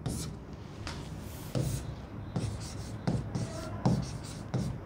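Chalk or marker taps and strokes on a classroom board during a Class 12 biology lesson, producing short scratchy bursts at uneven intervals, close and moderately loud under a teacher's ongoing talk.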